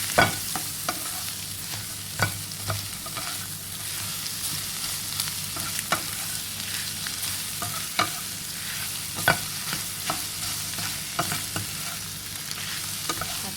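Okra and eggs are dry stir-fried together in a pan with no water added. A constant sizzle is punctuated by regular sharp clacks of the spatula against the pan every second or two, with no talking.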